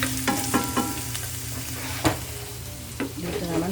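Garlic frying in a pan with ground pork and beans, a steady close sizzle broken by several sharp scraping clatters of a utensil stirring, no talking.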